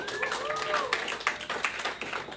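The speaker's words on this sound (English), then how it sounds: "a round of applause" An audience claps in a moderate round of applause with a murmur of voices mixed in, steady and mid-level for a couple of seconds.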